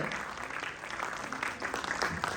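A yoga conference audience claps steadily throughout a university hall, dense and even with no pause.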